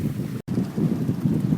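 A sailing yacht glides along under sail with its engine off, a steady rush of wind and water noise, broadband and constant, with no voices.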